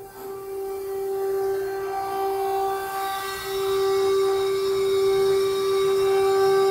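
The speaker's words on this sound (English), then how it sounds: "You can hear the bells going off." Warning bells sounding in a manufactured-home factory as a production line section moves, a steady sustained ringing tone held throughout over a low industrial rumble, moderately loud.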